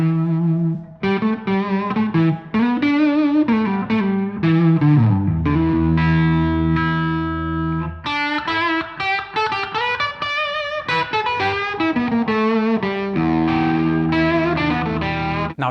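A distorted Les Paul-style electric guitar with PAF pickups, hand-built by a small UK maker, plays a continuous run of thick overdriven chords and melodic lines, loud and up close with no talking.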